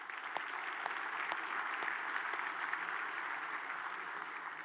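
Banquet audience at a regional chamber of commerce annual meeting applauding a presenting sponsor, with a moderate, even wash of clapping from many tables that holds steady and then tapers slightly.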